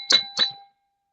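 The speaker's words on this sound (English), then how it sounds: "hit the bell notification" A notification bell sound effect: two bright, ringing dings in quick succession, loud and clear, each decaying with a sustained metallic tone before silence.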